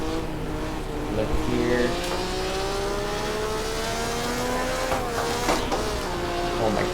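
A Formula One car at Goodwood runs loud and continuous, engine note rising and falling through the gears, with a brief spoken remark over it.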